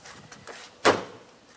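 A Honda car door trim panel is smacked into place by hand, giving a single sharp, close thump partway through, with quiet background around it.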